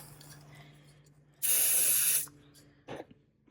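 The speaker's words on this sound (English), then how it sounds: "Oh, I sprayed a lot right there." A Bath & Body Works body spray gives one loud, close hissing burst lasting under a second, followed by a shorter softer puff and quiet room tone.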